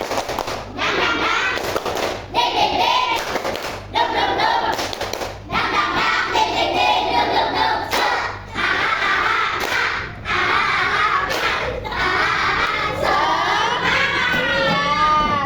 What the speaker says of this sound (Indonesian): Tepuk semangat dulu, kita tepuk semangat